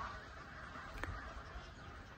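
Flock of geese honking noisily at feeding time, a steady crowded clamour of calls over constant background noise throughout.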